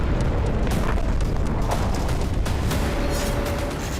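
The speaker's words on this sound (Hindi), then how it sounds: "जिसमें गाजा के लोगों पर मिसाइलों से हमला हो रहा है" Missile strikes and explosions hit refugee camps in Jabalia, Gaza: a continuous heavy rumble with repeated booms and sharp bursts, loud and unbroken throughout.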